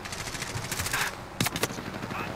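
Rapid bursts of automatic FFAR gunfire in the video game Call of Duty Warzone, dense repeated shots with a couple of sharper cracks standing out over continuous game noise and some talk.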